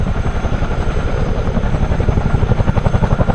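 A simulated CH-47D Chinook tandem-rotor helicopter in Microsoft Flight Simulator, a steady rhythmic rotor thump over a constant turbine whine, loud and continuous with no talk.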